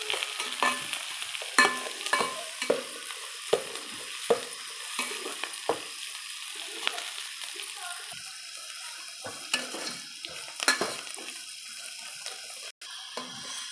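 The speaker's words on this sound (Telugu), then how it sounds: "అలా ఉప్పు వేస్తే ఉల్లిపాయలు అనేవి త్వరగా వేగిపోతాయి." Onions frying with salt in a pan, with a steady sizzle throughout and repeated scraping stirs from a spoon. No one talks.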